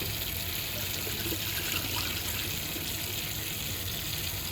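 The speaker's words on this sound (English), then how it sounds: "we're just going to rinse it out a little better" Tap water runs steadily while a container used for a dried morel spore slurry is rinsed out, a continuous close hissing splash with no one talking.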